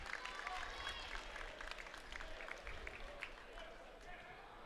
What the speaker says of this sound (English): Gets a round of applause as he exits the court.